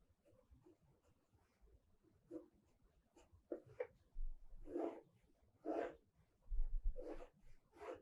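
A pencil scratches across paper while a face is sketched, soft strokes coming in short separate bursts that grow a little louder and longer toward the end, quiet and close.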